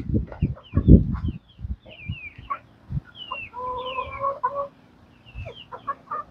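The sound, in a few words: chickens clucking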